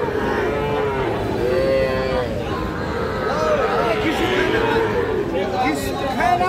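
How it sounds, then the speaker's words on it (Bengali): A Nepali Gir bull calf at a livestock market moos repeatedly in drawn-out calls over constant crowd chatter and nearby voices. "নেপালি গির জাতের একটা ষাঁড় বাছুর।"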